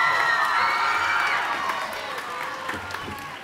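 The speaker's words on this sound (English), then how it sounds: "let's give Alpha a huge round of applause" A middle school assembly crowd cheering and applauding loudly, with whoops and shouts that gradually fade a little toward the end.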